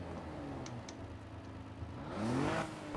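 A tuned car's exhaust in Need for Speed Heat revs up toward the end after a steady idle hum, the engine note climbing and swelling louder over a few seconds.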